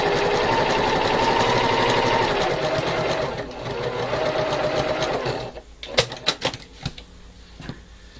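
A sewing machine stitches quilt pieces with a fast, even mechanical whir that runs steadily for over five seconds, then stops and gives way to a few sharp clicks and knocks of handling the fabric.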